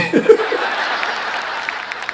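Audience at a Hindi poetry recital (kavi sammelan) in Ahmedabad, brief scattered clapping mixed with chuckles and laughter from the crowd, fairly loud and close, with no clear speech over it.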